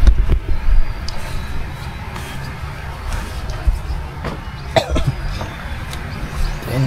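A person with a bad cough lets out several sharp coughs at irregular intervals, close by, over a rumbling outdoor background near a fishpond.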